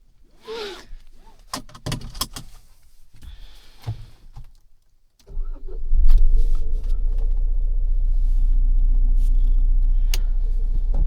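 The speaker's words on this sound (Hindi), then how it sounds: "so we are going to drive this car a little bit" A Mahindra Thar RWD 2024 LX hardtop with manual gearbox: a few clicks and handling noises, then the engine starts and settles into a loud, steady close-up rumble as it is driven.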